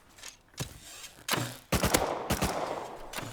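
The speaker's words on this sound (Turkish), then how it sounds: "Vuruyorum abi." Several sharp gunshots in Rust, spaced single cracks and a quick double burst, loud and close, with a faint background between shots.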